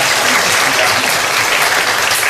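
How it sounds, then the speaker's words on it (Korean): A church congregation applauds to welcome newcomers during a Korean sermon, dense steady clapping filling the room, loud and continuous throughout. "우리 박수로 한번 환영하겠습니다."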